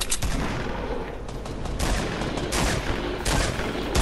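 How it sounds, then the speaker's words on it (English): Dense, continuous video game gunfire roars through the whole stretch, with rapid overlapping shots and bursts forming a loud, unbroken barrage with no talking. "Why are you shooting like that?"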